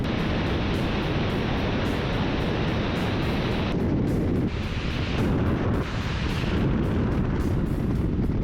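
Helicopter-launched rockets from an air MLRS attack roar in a dense, continuous barrage, with loud overlapping blasts and rushing noise that surges and dips for several seconds.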